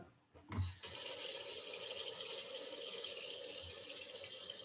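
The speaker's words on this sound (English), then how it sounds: "Let me wash my hands" Water gushes from a kitchen tap into a sink for hand washing, a steady, fairly close rushing stream that starts after a brief bump and runs on evenly with no talking.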